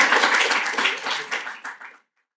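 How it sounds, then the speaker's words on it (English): Audience applause after a speaker introduction at a Latin American democracy talk: steady dense clapping that fades out over about two seconds. "But so now we can give him applause."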